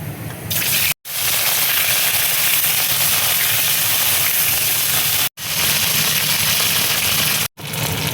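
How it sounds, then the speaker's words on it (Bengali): Steady loud sizzling and crackling of cauliflower frying in hot oil, continuous with a few brief pauses and no talking. "তেল দেখো গরম হয়ে গেছে। এবার আমি ফুলকপিটা দিয়ে দেবো।"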